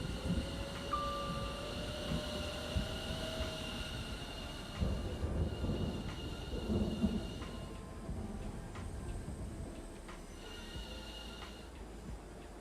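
A London Overground Suffragette line train in Train Sim World 4 rolls along with a steady rumble, high sustained wheel squeal and tonal motor whine, broken by faint clicks of the rails, with no talk.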